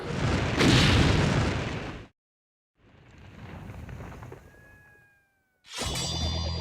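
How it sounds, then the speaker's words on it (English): A gunshot fired at a samurai sword clamped in a vise sounds as a loud blast that rings out and cuts off, followed by a quieter reverberant rumble with a fading metallic ring, then another loud burst. "Can the Japanese super sword survive being shot by a bullet?"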